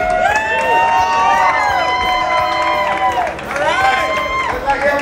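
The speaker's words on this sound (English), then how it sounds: "This is the crowd." A crowd at a celebration of life event shouts and cheers loudly with overlapping excited voices, swelling twice and dipping briefly in between.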